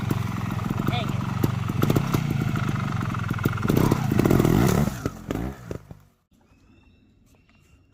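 A motorcycle roars loudly up close while riding a wheelie over rocks, with clattering and scraping mixed in and voices talking over the engine, before the noise cuts off abruptly.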